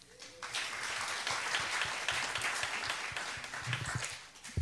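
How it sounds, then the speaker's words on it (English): Congregation applause at a Seaside church service, a crowd clapping steadily in a dense patter after a rise from quiet, with a voice briefly heard at the start. "Give a round of applause for Kathleen Lees."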